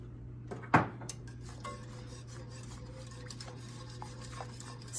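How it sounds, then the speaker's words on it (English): A spoon stirring crab into half and half in a pot, with soft scraping and light metallic clinks against the pot, one sharper knock near the start, over a steady low hum. "Stir that till it's nice and combined"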